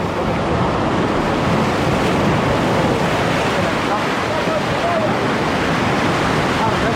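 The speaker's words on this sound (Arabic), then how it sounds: "ها هو البحر." Sea waves breaking on the shore at a fishing spot in Salé, a steady broadband wash of surf with wind noise, loud and continuous with no talk.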